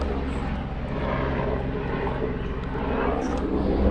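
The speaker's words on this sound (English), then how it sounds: "helicopter for flying over right there." A helicopter passing overhead outdoors beside a parked 2020 Host Everest triple-slide truck camper, a continuous loud rotor and engine drone that swells slightly toward the end, with no talking.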